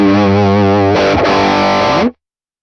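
Electric guitar through the Morgan Amps Suite overdrive pedal with the drive all the way up, a loud, saturated sustained chord that shifts midway and then cuts off abruptly, with no talking.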